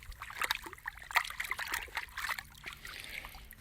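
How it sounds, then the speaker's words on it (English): Shallow creek water trickling and splashing nearby, an uneven, faint babble with small bursts of splatter that rise and fall over a few seconds. "See, the water's kicking along pretty good."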